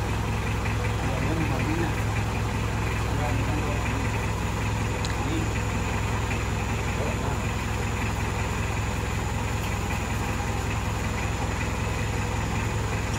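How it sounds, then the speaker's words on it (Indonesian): A car's engine idles steadily while waiting to set off for Banjar, a constant even rumble mixed with broad background noise and no clear changes for the full stretch. "ini dia mobilnya yang ke Banjar"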